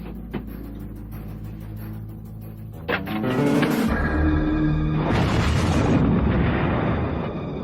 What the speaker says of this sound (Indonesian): Petasan.